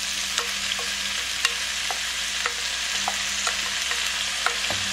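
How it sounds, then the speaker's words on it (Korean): Soaked dried bellflower root is stir-fried in garlic oil in a pan, giving a steady, close sizzle with scattered light scraping and stirring clicks throughout. "어느 정도 됐다 싶을 때 도라지, 조물조물해둔 도라지 넣으세요"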